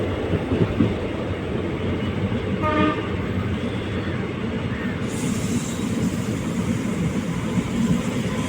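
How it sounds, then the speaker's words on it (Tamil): A train rumbles past overhead on the Salem to Mettur Dam line, a continuous loud rolling roar with a short horn toot partway through. "மேலே ட்ரெயின் போகுதுங்க ட்ரெயின் போகுது"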